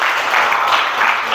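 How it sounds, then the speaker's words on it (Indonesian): A short, dense burst of clapping from a classroom group, steady and fairly loud throughout, given for a student named Elia. "Kasih tepuk tangan buat Elia."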